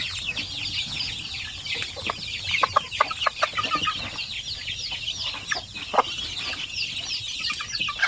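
Many native chickens cluck and chatter together in a busy, overlapping flock, fairly close and loud, with sharp squawks scattered through the steady din.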